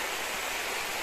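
River stream flowing steadily, a dense broadband rush of water heard close and continuous, no voices.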